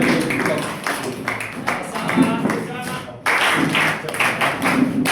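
An audience at a community meeting of Nakapiripirit leaders claps during a by-law signing on curbing alcohol abuse: a dense, steady patter of hand claps runs throughout the clip under ongoing talk.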